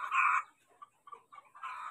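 Egg-laying hens cluck nearby in two short bursts, one at the start and one at the end, with softer scattered clucks between them and no one talking.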